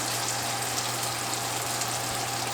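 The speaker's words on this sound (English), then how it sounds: "When the butter starts to get brown, you're gonna go ahead and sprinkle your sage leaves into your skillet." Sage leaves fry in browned butter in a skillet, giving a steady, even sizzle over a low hum, with no talking.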